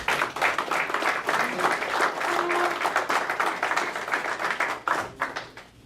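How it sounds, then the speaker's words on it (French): An audience applauds at a Quebec sports federation meeting: dense, fairly loud clapping that swells and dips, with a few voices mixed in under it. "j'aimerais que vous offriez une bonne main d'applaudissement, ces gens-là"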